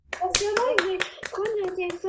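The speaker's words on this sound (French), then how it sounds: "on applaudit tout le monde!" A small audience gives quiz participants a scattered round of clapping, with children's voices and chatter mixed in among the claps.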